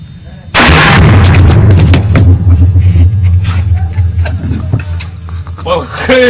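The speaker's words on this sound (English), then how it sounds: "Klaus, how is the shooting going?" Gunfire at a shooting session, loud heavy reports and booming rumble starting suddenly and continuing steadily, with voices talking underneath.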